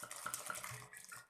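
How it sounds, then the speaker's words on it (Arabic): Warm milk poured into homemade bread dough made with flour and yeast, a continuous liquid splashing and trickling close by, steady for just over a second with no voices. "ندير لها الحليب، والحليب يكون دافي"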